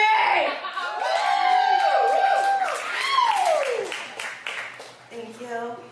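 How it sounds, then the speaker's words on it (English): A stand-up comedy audience cheers at a live show, with drawn-out whoops and hollers rising and falling over scattered clapping and crowd noise, filling the room for several seconds. "Cheer for me!"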